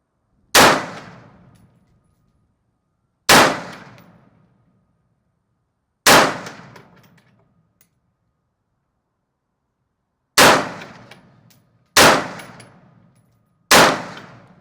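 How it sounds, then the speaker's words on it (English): Six sharp rifle shots from a Daniel Defense M4A1 strike steel targets, each crack followed by a ringing metallic clang that fades over about a second. Three come in a slow, steady series, then a pause, then three more in quicker succession. "now we're going to shoot the 2 bottom ones and see where we hit"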